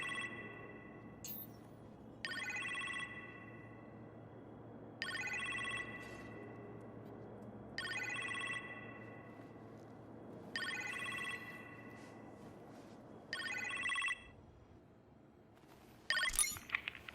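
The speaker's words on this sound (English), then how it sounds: "You appear to have a phone call in the kitchen, sir." A telephone rings in a kitchen in the Iron Man VR game, five evenly spaced bright ring bursts about three seconds apart over quiet room tone, ending with a short clattering rustle.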